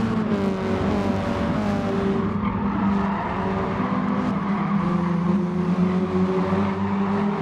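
Small race car engines at Tsukuba Circuit in a racing video game, a steady, loud, buzzing drone with rising and falling engine tones from several nearby cars along the main straight, no voices.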